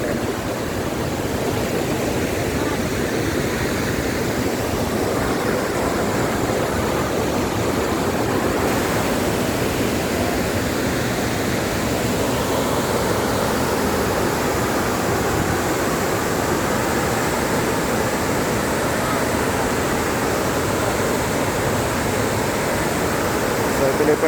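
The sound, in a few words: water falling at Wawa Dam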